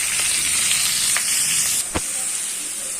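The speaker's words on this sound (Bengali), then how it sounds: "পেঁয়াজগুলো ভাজা হোক" Onions frying in hot oil in a pan with fish, papaya, bay leaf and chillies, a loud continuous close sizzle with a brief stirring knock partway through.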